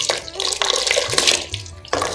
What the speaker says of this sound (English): rice which has been soaked for more than 45 minutes into the water